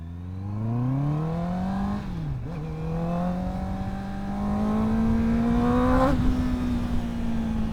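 A motorcycle with an official Akrapovic underslung exhaust revs steadily with a deep, rising exhaust note, dipping briefly then climbing again, loud and close throughout.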